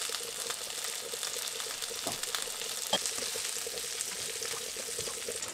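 Butter sizzles and crackles steadily in a hot pan where poultry has been cooking on a stove at medium heat, a continuous fizzing hiss with a few small pops, close and fairly quiet.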